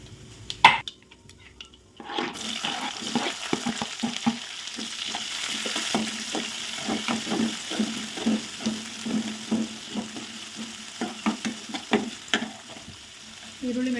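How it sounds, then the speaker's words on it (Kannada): Mustard seeds and cumin sizzle in hot tempering oil for a ridge gourd stir-fry, a steady crackling hiss that starts suddenly after a quiet moment and continues with light stirring clinks. "ಒಗ್ಗರಣೆಗೆ ಸಾಸಿವೆ ಮತ್ತು ಜೀರಿಗೆನ ಹಾಕ್ತಾಯಿದ್ದೀನಿ."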